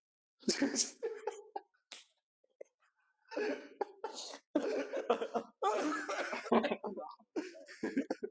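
Bursts of sneezing and coughing come close by among chuckles and throat clearing, several sharp explosive bursts in quick succession with short pauses between.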